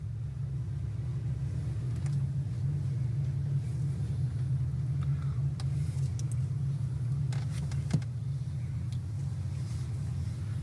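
Trucks rumble nearby on a clean warehouse lot, a low, continuous engine drone with a few faint clicks and taps over it.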